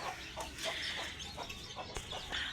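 A mother hen kept as a pet clucks softly in short, repeated bursts while near her young chick indoors, close but fairly quiet, with faint background rustle.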